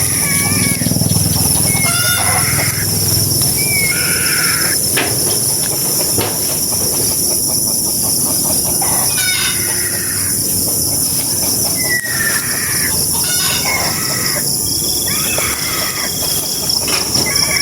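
A chicken crows and clucks in repeated short calls over a steady loud background rumble, with people talking nearby.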